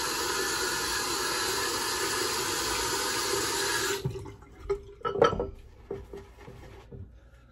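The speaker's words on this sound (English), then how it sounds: "I'm just gonna rinse real quick" Razor rinsed under a running tap during a wet shave, a steady close rush of water for about four seconds, then the flow stops and a few clinks, drips and taps of the razor against the sink follow.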